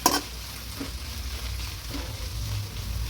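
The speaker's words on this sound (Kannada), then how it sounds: "ಪುದೀನಾನ ಸ್ವಲ್ಪ ಈ ರೀತಿ ಚೆನ್ನಾಗಿ ಫ್ರೈ ಮಾಡಿ" Mint leaves fry in a pan for chicken chops, giving a steady, even sizzle throughout after a brief clatter at the very start.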